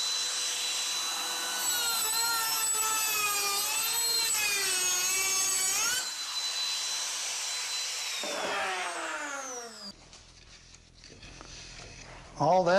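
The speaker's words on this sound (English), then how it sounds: "So I'm going to run this slot on my little sample jamb first" Saw blade on an arbor cutting a slot into a small wooden sample door jamb made of pallet wood, a loud steady whine with shifting pitch that drops out briefly, then changes character near the end.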